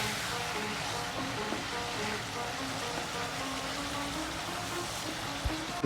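Peshawari chicken sizzles in a pan over a medium flame, a steady, even hiss and crackle at moderate volume with a faint clink near the end.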